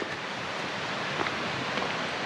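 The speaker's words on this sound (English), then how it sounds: "This creek is beautiful. We're gonna have to cross it here shortly." Bear Creek flows along a forest trail with a steady, broadband rush of running water, even and unbroken for the whole stretch, with no voices.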